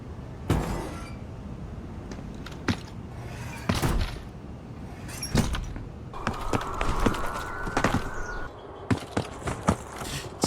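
Footsteps and door sounds from the video game Black Ops 6: sharp, irregular thuds and clacks scattered over ten seconds, with a sustained tonal whine rising briefly in the middle.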